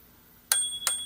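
Two quick metallic rings from the handlebar bell of a Xiaomi M365 Pro electric scooter, spaced about a third of a second apart, close and bright with a lingering tone.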